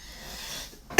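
One sharp, loud cough bursts out abruptly near the end after a quiet stretch of faint room noise.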